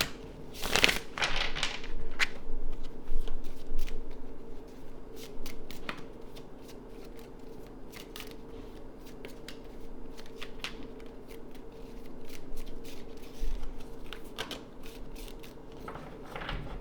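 A tarot card deck is shuffled up close, with crisp riffling and a patter of cards rubbing and tapping together in irregular bursts that continue at moderate volume throughout.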